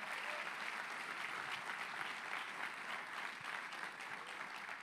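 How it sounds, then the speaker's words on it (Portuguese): A church congregation applauds during a Portuguese worship service, producing a steady, uniform wash of many clapping hands that sounds fairly distant and soft, holding evenly for several seconds with no speech on top. "Aplauda o Senhor."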